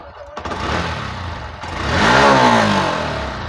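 A Honda Shine BS6 motorcycle with starting trouble cranks on its self-starter, catches briefly with a rising rev, then winds down as it cuts off, heard up close.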